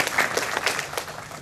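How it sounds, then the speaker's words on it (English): Audience applause for Belinda at a morning agricultural research talk, a steady wash of many clapping hands filling a hall, fairly loud and even throughout with no voices over it. "So please, a round of applause for Belinda."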